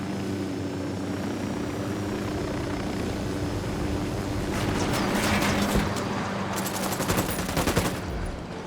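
Gunfire in Ghost Recon Wildlands: rapid automatic bursts crack out over a steady helicopter-like engine drone, growing denser toward the end and fairly close.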